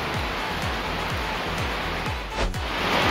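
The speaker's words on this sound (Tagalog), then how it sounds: "lakas ng ulan." Heavy rain pours down outdoors as a steady, dense broadband hiss that stays loud and even throughout, with a slightly stronger gust of splashing near the end and no talking.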